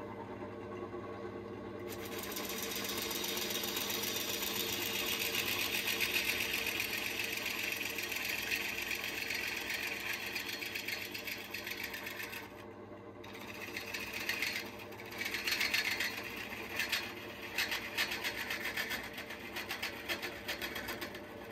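A lathe spinning a bog oak bowl blank while a woodturning gouge cuts it, giving a steady whirring drone with a brief dip partway through, close and continuous with no talking.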